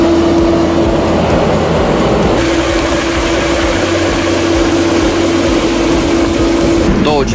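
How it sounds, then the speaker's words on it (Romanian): JCB 3CX backhoe loader with its engine held at high revs during a manual DPF regeneration, a constant loud drone with a steady tonal whine that runs throughout, ending with a brief clatter. "Motorul încă funcționează la durații ridicate."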